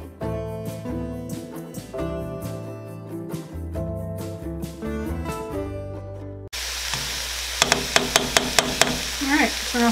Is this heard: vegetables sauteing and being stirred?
yes